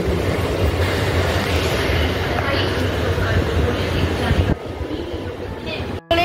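A Mumbai local train bound for Churchgate rumbles past loud and close with a steady roar of wheels and carriages, which drops abruptly near the end.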